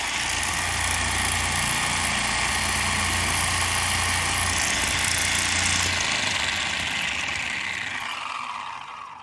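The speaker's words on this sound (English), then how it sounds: "if you want an RC car, you'll be so impressed with how fast this thing is" A fast RC car's motor runs loud and steady for most of the stretch, with a broad whining buzz that eases slightly toward the end, heard alone without talk.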